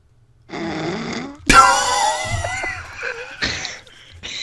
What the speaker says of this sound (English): give us a loud snore